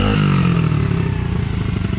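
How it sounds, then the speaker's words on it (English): A Mazdaspeed6 engine revs hard close by, a loud roaring burst that drops and settles into a rough, pulsing idle with mechanical clatter. "Give him a few revs, bud."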